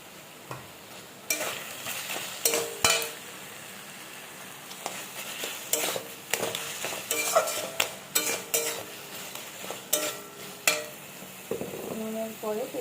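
Salt and spices frying in a pan are stirred briskly, giving repeated close scraping strokes in an uneven rhythm over a low steady sizzle.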